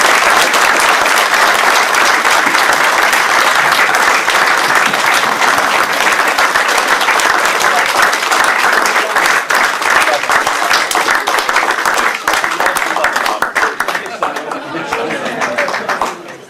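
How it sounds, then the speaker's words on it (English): Loud, sustained applause from wedding guests for a newly married couple at the ceremony, dense clapping throughout that thins slightly toward the end, with some chatter mixed in. "Let's give them a round of applause"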